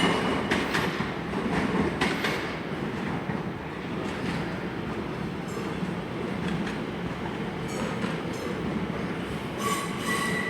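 A Class 802 intercity train, unit 802.106, departs London Paddington, rolling steadily with wheel squeal and clickety-clack over rail joints amid the station's broad echoing rumble, with no voices.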